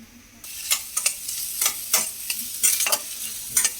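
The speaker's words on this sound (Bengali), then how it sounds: "তেলটা গরম হয়ে এসছে। এবার আমি পেঁয়াজটা দিচ্ছি।" Onions hit hot oil in a pan and fry with a sharp hiss, while a spatula strikes and scrapes the pan in uneven stirring bursts for a few seconds.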